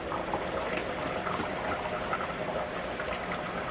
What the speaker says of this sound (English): I'm thinking the spaghetti is done. Let me turn this down. It's a nice rolling boil.